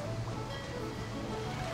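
Rushing waterfall in the video game Bioshock Infinite, a faint steady broadband wash of falling water with a low hum underneath, continuous throughout.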